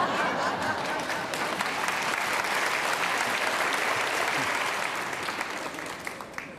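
Audience applause at a motivational talk on the power of intention, a sustained dense wash of clapping that holds steady and loud for several seconds before easing slightly at the end.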